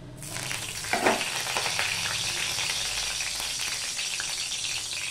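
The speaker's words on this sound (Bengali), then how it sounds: "আজকে আমি ভেন্ডি ভাজা করব মশলা দিয়ে" Cut okra sizzles and crackles steadily in hot oil, a dense frying hiss with a brief stir-like clatter near the start.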